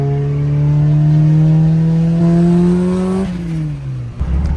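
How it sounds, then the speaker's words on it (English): A turbocharged Honda Integra with a Spoon N1 exhaust revs hard up close, a loud steady engine drone climbing in pitch before dropping off abruptly near the end. "It's loud. VTEC's loud."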